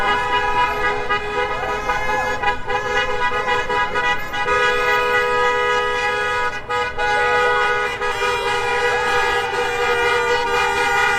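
Car horns honk in a Minneapolis street during the Chauvin trial verdict gathering, loud and layered, with long sustained blasts overlapping almost without a break.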